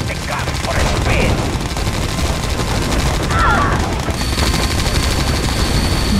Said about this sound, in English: Let's take the gun for a spin.